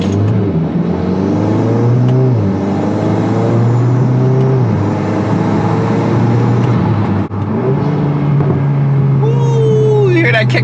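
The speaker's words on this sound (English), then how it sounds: "you hear that kickoff on that downshift in the turbo?" A Mk8 Volkswagen Golf R fitted with a RacingLine turbo inlet pipe and elbow drives under a loud, steady drone, with engine pitch stepping through shifts and a rising turbo whoosh near the end of a downshift.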